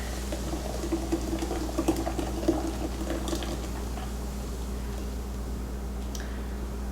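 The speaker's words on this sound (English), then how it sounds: "I'm going to add the beer to it" A can of beer poured into a marinade paste for Portuguese linguiça sausage, a soft bubbling, fizzing liquid sound with small splashy ticks, steady and close over a low background hum.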